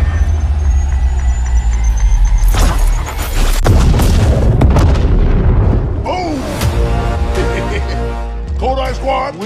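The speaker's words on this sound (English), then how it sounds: "Grenade." Grenade blast in the video game Apex Legends, a loud booming burst amid dense cinematic battle noise, with heavy low rumble, sharp impacts and voices speaking over parts of it.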